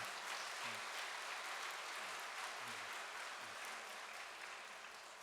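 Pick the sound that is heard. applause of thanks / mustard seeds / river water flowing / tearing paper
applause of thanks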